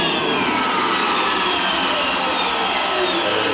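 An Outrider Alpha electric vehicle's motor whines under throttle, a loud rising electric whir with whooshing wind noise for a few seconds.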